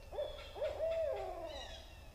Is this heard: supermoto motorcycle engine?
no